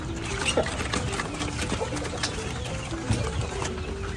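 Hens in a backyard chicken coop, with soft clucks and coos scattered over steady outdoor background noise, fairly quiet and continuous, with a faint voice now and then.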